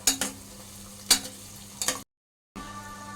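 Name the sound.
ginger garlic paste frying and being stirred in oil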